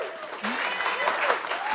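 An audience at a lunch meeting applauds steadily, the clapping continuous and fairly full, with a voice speaking over it.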